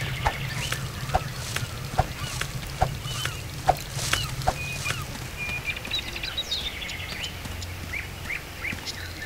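A turkey in the How to Survive video game gives repeated short honking gobbles at an uneven pace, mid-distance and fairly clear over a steady low outdoor ambience, with other brief bird-like calls scattered later.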